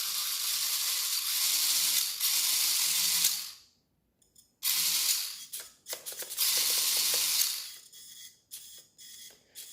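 A Kyosho Mini-Z MA030 EVO all-wheel-drive RC drift car motor whirs in loud, high-pitched bursts, cutting out briefly around the middle and then returning in shorter stuttering revs that stop and start toward the end.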